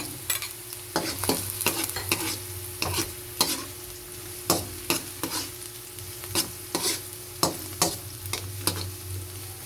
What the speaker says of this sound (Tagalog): Ang ingay ng kawali.